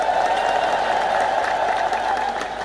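Congregation clapping together at an Ethiopian Orthodox church celebration before the Saint George tabot, steady dense applause from a crowd filling the space with no pauses.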